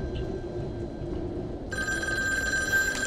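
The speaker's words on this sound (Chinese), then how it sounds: "电话在响" A telephone in the horror game Devotion (還願) starts ringing partway through, a loud, bright, sustained electronic bell that continues to the end over a low, quiet background.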